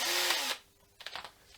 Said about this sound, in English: Let's put it in the drill.